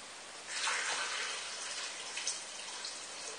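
About a litre and a half of water pours steadily into a soup pot for chicken soup, a soft continuous splashing stream that starts after a brief pause and runs to the end.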